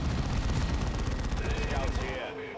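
An assault cannon firing in the video game Dawn of War 2, a dense continuous roar of rapid gunfire filling the whole span before cutting off abruptly near the end.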